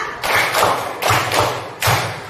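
Group hand clapping in a lesson, five evenly spaced, heavy and slightly thudding claps in a steady beat, loud and close in a reverberant room, with no voices.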